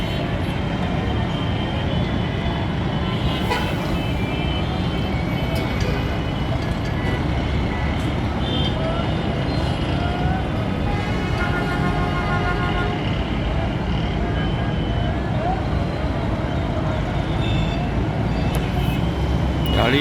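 Cars, buses and lorries crowd Vehari Chowk in Multan, a steady, dense roar of traffic that never lets up, with engines droning and a few faint beeps rising out of the wash.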